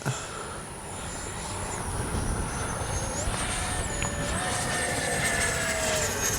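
An FMS 70mm Viper RC jet with an electric ducted fan flies overhead, its steady whine rising and falling in pitch over a constant rushing roar, moderately distant and continuous throughout.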